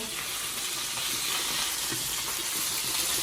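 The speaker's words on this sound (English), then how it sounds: "we're going to use this to brown our meat. So it's going to get sizzling in here." Beef browning in hot oil, a loud dense continuous sizzle and frying hiss with light stirring, close up and without talk.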